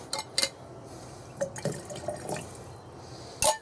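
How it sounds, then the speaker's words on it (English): Water is poured into thick sugar syrup for a beehive feeder, giving irregular splashes and drips in short bursts with quieter trickling between. "I'm going to add some water to it"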